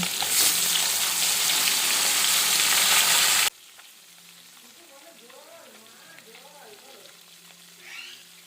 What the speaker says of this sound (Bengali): মাছের দুটো পিঠ একটু অল্প অল্প করে ভেজে নেব